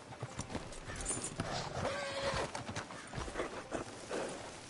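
Steady clip-clop of horse hooves at a walking pace in Red Dead Redemption 2, fairly close, with a brief whinny-like tone in the middle and ambient game sounds underneath.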